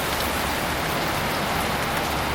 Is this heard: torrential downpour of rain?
yes